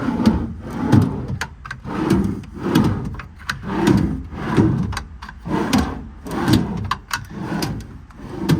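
Repeated drawers in a 2016 Ford F550 service truck body slide open and shut in a steady rhythm, about one cycle per second, sounding wooden, close by with no talking.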